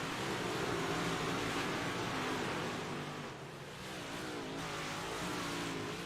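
A big block modified race car engine roars loud and steady for the whole stretch, a dense, rough drone with a brief dip in level midway before it climbs back.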